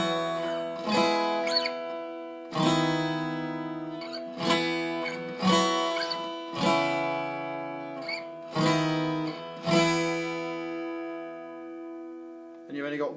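A strummed guitar rings out the slow intro chord progression of a song, each chord struck firmly and left to decay before the next, about eight in all.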